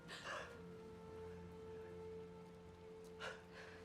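Faint, steady rain falls in the Spider-Man 2 video game, a soft, even hiss with a few slightly louder patter bursts near the start and end.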